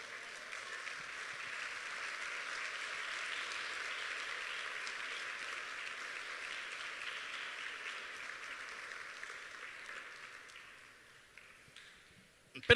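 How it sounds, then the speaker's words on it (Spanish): Church congregation applauding steadily during a Spanish-language sermon, a sustained wash of clapping that fades toward the end, cut off by a sharp sound at the very end. "Dele un aplauso al Dios de Israel."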